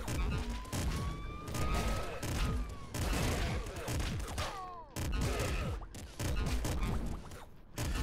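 Enemy gunfire in the Nuclear Throne video game with the Ultra mod, dense bursts of rapid shots with siren-like tones and crashes, loud and continuous in blocks with short gaps between them.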